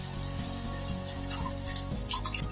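Water poured from a vessel into a pan of sautéed mutton for a Madurai street-style kari dosai fry, a steady trickling splash with faint tonal hum beneath, fairly quiet and continuous.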